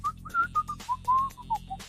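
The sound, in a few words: imitated whistling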